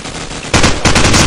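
Rapid automatic gunfire in Call of Duty 4 during a competitive match, loud bursts that intensify halfway through into dense, sustained firing with a short pause before another volley.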